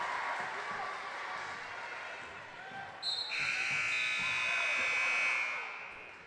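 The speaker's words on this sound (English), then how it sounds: "at the buzzer, we have a whistle and a foul" A junior high basketball game's buzzer sounds as a sustained tone, joined by a referee's whistle over a noisy gym crowd, with sneakers and chatter underneath.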